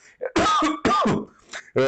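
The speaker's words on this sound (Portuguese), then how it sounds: "já estou tossindo aqui" A few sharp, harsh coughs in quick succession, close to the microphone, with short pauses between bursts.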